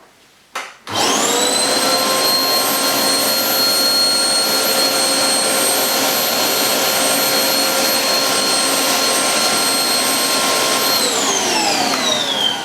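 A Hoover Blaze bagless cylinder vacuum cleaner, 850 watts, switches on with a thump and whines loudly and steadily for about ten seconds before winding down at the end.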